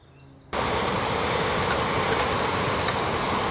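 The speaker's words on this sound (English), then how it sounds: "And that train is heading towards Staplehurst," A train passes near Marden Meadows Nature Reserve, heading toward Staplehurst, its loud, steady rail rumble and wheel noise starting abruptly and holding for several seconds.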